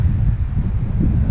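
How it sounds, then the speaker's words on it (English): Wind gusting hard on an exposed street in Montevideo, a steady low buffeting rumble across the microphone that rises and falls slightly without a break. "It's very windy here"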